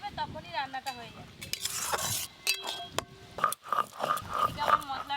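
Ridge gourd frying in a pan while being stirred with a utensil, scraping and clinking against the metal over a soft sizzle, with someone talking over it throughout.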